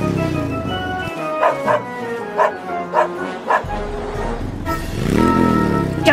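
A cartoon dog from Paw Patrol barks several times in quick yips over a running engine hum, fairly close, followed by a rising whine.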